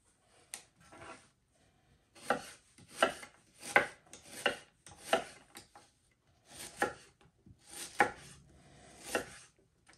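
Onions sliced to one-eighth inch with a sharp knife on a board, a series of quiet, crisp chopping strokes in short bursts separated by pauses, close and without talk.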